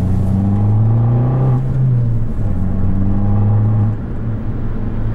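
A 2013 Fiat 500 Abarth engine drones loudly and steadily while driving, with a strong low rumble that climbs in pitch, dips briefly, then settles into a sustained throaty hum heard from inside the car.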